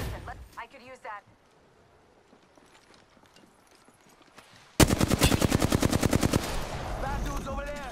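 Rapid automatic gunfire from the video game Apex Legends bursts in abruptly partway through, loud and sustained with a fast, steady rhythm, after an opening stretch of game voice and quiet background.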